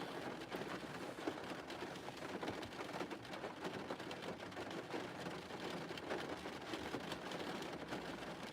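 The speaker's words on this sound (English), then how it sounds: "The rain's really picking up." Heavy rain pours steadily outdoors at an outdoor basketball practice spot, a dense, constant hiss with no breaks, fairly loud and close throughout.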